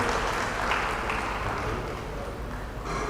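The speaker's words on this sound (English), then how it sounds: "Please, let's give her one more round of applause." Steady, dense applause from an audience at a regional business forum in Ghana, an even wash of many hands clapping at moderate distance that holds throughout without talk.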